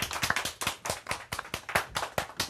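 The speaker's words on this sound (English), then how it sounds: "That's a nice applause." Applause from a live comedy show audience: a small group clapping briskly and steadily, close and fairly loud, with no voices over it.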